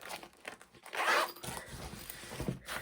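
A zipper on a Neewer photography lightbox being pulled open, with a quick close rasping zip followed by softer fabric rustling, quiet and with no talk.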